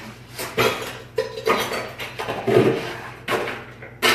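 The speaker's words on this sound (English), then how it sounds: "That's the sound of dishes having to be washed." Dishes and cutlery clatter and clink repeatedly in bursts, close by, with a steady low hum underneath and no talking.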